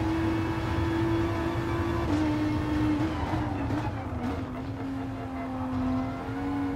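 Renault RS01 '16 Group X race car in Gran Turismo Sport, its engine holding a steady, loud drone with slight pitch shifts as it runs through corners, continuous throughout.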